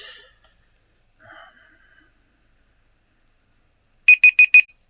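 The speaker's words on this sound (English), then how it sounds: "Oh, that's my alarm." A personal alarm goes off during a painting session: four short, bright electronic beeps in quick succession, loud and close, after a near-silent stretch with faint movement.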